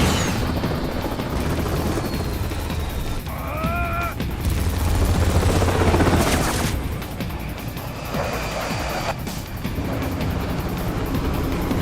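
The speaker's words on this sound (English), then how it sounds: "Bring the chopper around." Helicopter in the video game Metal Gear Rising: Revengeance, a loud steady rotor roar with swelling and fading passes, booming impacts and electronic whines layered over it, no talk.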